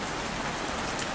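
Steady rain falls at AT&T Park, the San Francisco Giants' baseball stadium, a dense, even hiss of drops hitting surfaces close by, continuous and unbroken with no voices.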